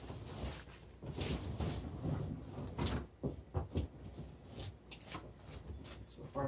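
A dishwasher being slid into a kitchen cabinet opening with an insulation sound blanket around it, with close scraping, sliding and bumping in uneven bursts as the unit is pushed into place.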